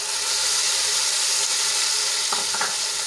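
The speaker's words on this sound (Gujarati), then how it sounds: "એમાં આપણે 2 મોટી સાઈઝના ટમેટાની પ્યુરી એડ કરી દઈશું" Tomato puree added to sizzling oil and flour in a pan for a Gujarati dry val bean curry, giving a steady loud hiss with a few brief stirring clicks near the end and no talking.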